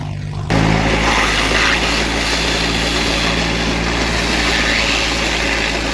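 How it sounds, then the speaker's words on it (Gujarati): A tractor's engine runs steadily at close range on a farm field, a continuous loud low drone with no pauses. "એક ટ્રેક્ટર કઠરા હાલતું જાય"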